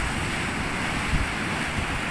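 Sea waves washing onto a shore under steady wind, a continuous broad roar with wind buffeting the microphone. It holds at an even level throughout, with no voices.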